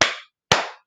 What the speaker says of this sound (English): 2 claps for Gianna.